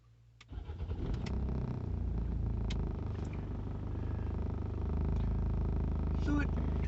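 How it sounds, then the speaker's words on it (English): A Rover 75 CDTI diesel, already warm, cranks briefly and catches, then settles into a steady, slightly tractor-like clattering idle close by, with no talk over it. "So it's one of these old school diesels. It sounds a bit tractory on startup"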